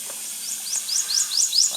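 A prothonotary warbler, the yellow swamp canary, sings in a Louisiana swamp, a bright run of five or six rising high-pitched notes repeated evenly and close over a quiet background.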